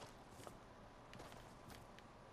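Footsteps in a first-person video game, a faint patter of repeated steps under steady background noise, with a few slightly louder footfalls spread across the moment.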